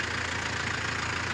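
A tractor engine idles and rumbles steadily at an old-fashioned tractor pull at the Addison County Fair and Field Days, a constant, fairly faint broadband drone with no distinct revs.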